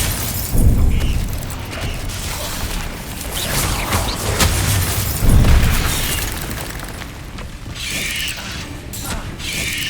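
A Confringo spell in Hogwarts Legacy blasts egg sacs, with loud fiery bursts and booms rising from a dense, rumbling game soundscape of magical effects and mechanical clatter.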